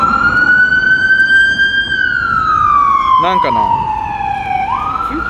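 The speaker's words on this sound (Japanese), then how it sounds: "救急車なのかな。" A loud ambulance siren wails close by in a Czech city centre, its pitch sliding down as it passes, with a brief spoken remark partway through over steady traffic noise.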